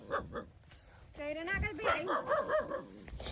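A dog yips and whimpers in short bursts near the microphone, mixed with excited high vocal sounds, amid wedding-day household activity.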